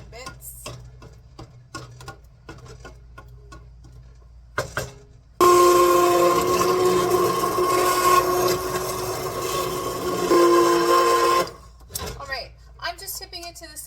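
A worn immersion blender whirs through roasted tomato basil soup in a tipped pot, a loud steady motor hum lasting several seconds, framed by clinks and kitchen handling noises before and after.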